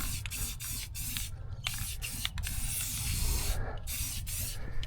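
A spray can laying a thin sticky coat of paint onto a Suzuki Samurai chassis, bursts of close hissing spray broken by brief pauses, repeated several times.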